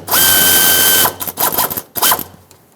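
A ratchet with an 8mm socket loosens fuel hose clamps on a 1999-2007 Ford F-350 7.3L Powerstroke, first a sustained whirring run, then several short bursts of clicking and whirring close by.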